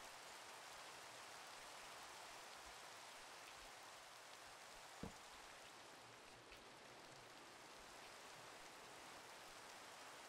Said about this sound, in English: And it's raining! It's raining!